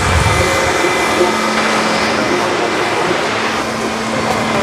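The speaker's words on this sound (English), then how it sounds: "Now they're doing a bit of maintenance work here, so I apologise if it's a bit noisy." Loud, continuous whooshing machinery drone from maintenance work at Sydney Airport, a steady broadband roar with a faint hum, close by and unbroken throughout.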